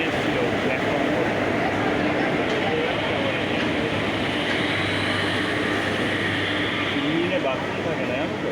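A train rumbles steadily at a station platform on a trip to Berhampur, a loud continuous roar of wheels and engine with voices talking over it.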